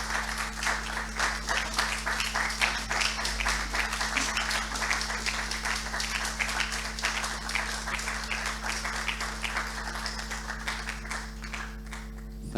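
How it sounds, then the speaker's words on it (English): A conference audience at an opening ceremony applauds the ISU staff, many hands clapping in a sustained, even wave for over twelve seconds under a steady low hum, with no voices. "for everyone else to give them a round of applause"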